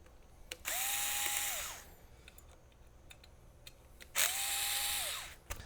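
A small power screwdriver removes screws from the back panel of a Symphony I/O MK2 audio interface. Two close, steady whirring runs of about a second each are separated by faint clicks and handling noises.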